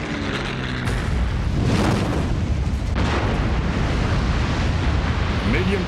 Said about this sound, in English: A million pounds of gunpowder explode.